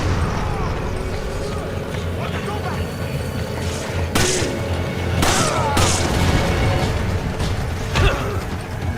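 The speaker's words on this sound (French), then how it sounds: "Qu'est-ce qui m'a lancé une grenade là?" Grenade explosions in the action game Resident Evil 5, sharp loud blasts at about four and six seconds, with a final one near eight seconds, bursting over constant game noise, gunfire and rumble, with someone talking throughout.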